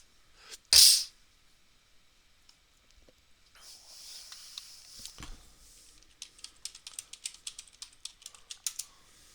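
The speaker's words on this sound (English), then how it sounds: "Type in Warner Center, California in your Google Map." Computer keyboard typing, a fast run of sharp clicks in the second half that follows a brief loud burst and some quiet shuffling, close and clear with no talk.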